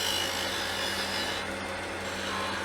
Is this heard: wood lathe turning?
yes